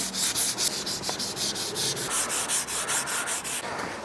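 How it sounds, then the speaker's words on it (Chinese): Car body paint on a side rocker panel being wet-sanded by hand with 600-grit sandpaper, a close, steady rhythmic rasp of back-and-forth strokes with no talking. "我们就要开始用这个600的砂纸，把它表面打磨光滑才行"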